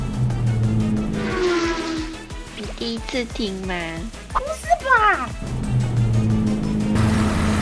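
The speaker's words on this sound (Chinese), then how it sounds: "那个摩托车的声音就是我家狗狗在打呼" A dog's snoring rumbles with a rough, revving motorcycle-like quality, heard at the start and again near the end, while voices talk through the middle.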